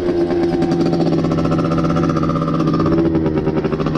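Small 50cc Katasaki dirt bike with a Minarelli two-stroke engine running steadily at a steady buzzing idle, close and loud, with no talk.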